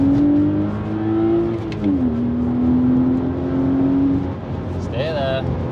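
Honda Integra Type R track car engine revving up toward 4,000 rpm, a droning exhaust note holding steady, dipping, then climbing again, heard close with a faint whine and some background noise.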